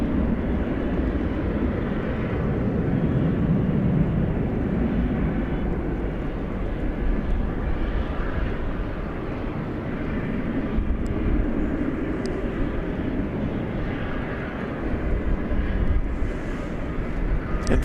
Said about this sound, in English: We hardly ever see any FedEx planes here on the west side, much less an MD-11